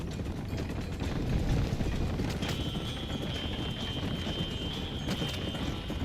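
A horse galloping in the western video game Red Dead Redemption, a steady dense drumming of hooves close by under a constant wash of noise, with no voices.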